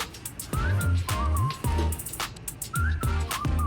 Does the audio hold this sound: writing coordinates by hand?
no